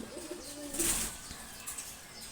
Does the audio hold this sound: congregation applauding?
no